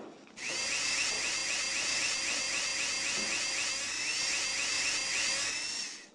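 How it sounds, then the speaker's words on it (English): A game power drill in Tonka Workshop bores holes for swing ropes with a steady high-pitched electric whine that pulses rhythmically, starting abruptly and running loud and unbroken for about six seconds. "Drill holes for the swing ropes."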